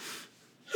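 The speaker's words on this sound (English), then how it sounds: "Gasp." A person gasping: a short breathy intake of air close up, then a sharper voiced onset right at the end, brief and fairly loud.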